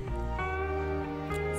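A cat in the farming life-sim game Wylde Flowers gives a single drawn-out meow, heard clearly and up close over the game's soft background music.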